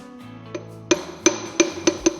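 Piston being tapped out of a 283 engine block with a rod remover tool, giving sharp metallic knocks, about five or six strikes in a quickening rhythm, close and fairly loud.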